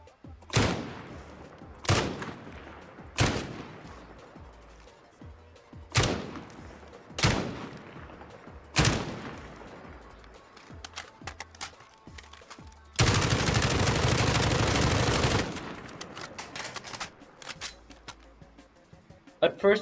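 Kilo 141 assault rifle in Call of Duty Warzone fired at a wall: six short, loud bursts with decaying tails, then a sustained full-auto stream of about two and a half seconds, and a final burst at the end.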